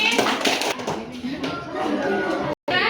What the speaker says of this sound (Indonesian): tepuk tangan untuk kelompok Raffi.